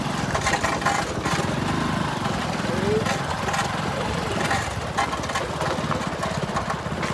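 Heavy construction machinery engines rumble continuously nearby at a bridge building site, a low droning hum with rattling texture, while voices talk over it.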